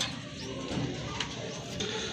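A pair of domestic pigeons coo softly in low, burbling pulses, faint and close together, with occasional light background noise.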